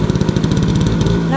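A Vespa 90cc two-stroke scooter engine runs loud and close in a rapid, buzzing, pulsing idle that shifts pitch slightly near the end.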